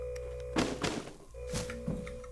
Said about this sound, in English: The drop sounds are pretty loud.